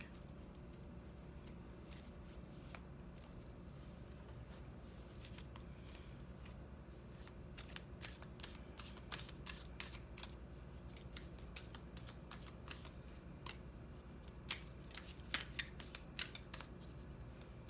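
A tarot deck is shuffled again and again, giving soft riffling flutters and light card clicks that come in irregular bursts over a faint background hum; close but quiet, with no talking.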